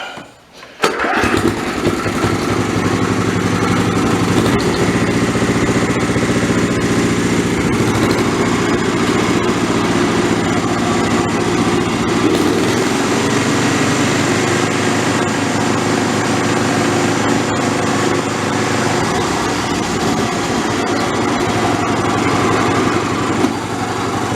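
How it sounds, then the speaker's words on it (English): Snapper 2650 rear-engine riding mower with a small engine starting up, then running steadily and loud with the cutting deck engaged, a continuous drone that holds through the whole clip. "we'll start this up and kick the deck into gear and see how she sounds"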